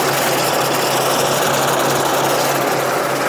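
A 2013 Mercedes-Benz Sprinter 2500 high-roof extra-long camper van with its turbo diesel engine running, giving a steady, loud, continuous idling drone with a low hum and no talk over it.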